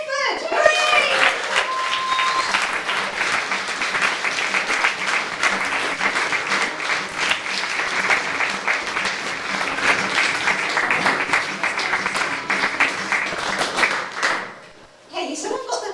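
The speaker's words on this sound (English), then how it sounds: "Please give a huge, bright club round of applause for Kathryn Bedford!" Loud, sustained audience applause and cheering for comedian Kathryn Bedford at a Newcastle Bright Club comedy night, a dense roar of clapping with brief whoops that fades out near the end.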